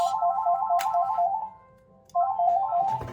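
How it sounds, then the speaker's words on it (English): A phone ringtone plays a repeating electronic melody, pauses briefly, then rings again, close and fairly loud. "Stupid phone rings when you don't want it to."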